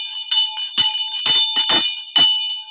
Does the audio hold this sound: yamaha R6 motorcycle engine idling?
no